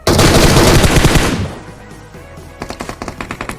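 Automatic gunfire in the video game PUBG Mobile, a loud, close burst of rapid shots, a brief lull, then a second quicker string of evenly spaced shots.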